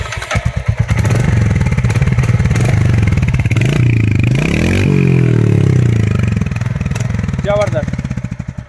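A Royal Enfield Hunter 350 motorcycle with its stock exhaust thumps loudly up close at idle, swelling into a rev midway before settling back into a steady, deep beat.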